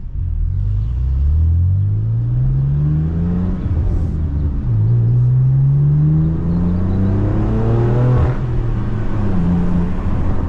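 A BMW M4 Competition with AWE SwitchPath exhaust valves open rumbles loudly up close, with two long rising revs and a quick blip near the end over a deep, burbling idle.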